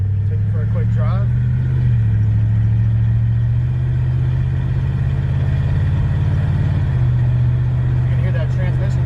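1936 Chevrolet 5-window coupe set up as a hot rod with a 350 V8 and manual steering, driving with a loud, steady low engine drone from inside the car, pitch shifting slightly as it moves, with a person talking over it.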